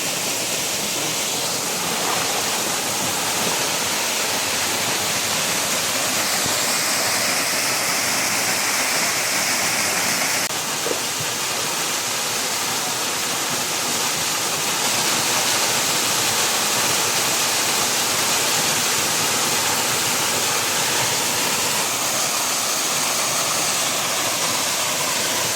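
A steady, loud roar from a waterfall in a mountain forest, a strong rush of water pouring continuously without a break, close by and with no voices.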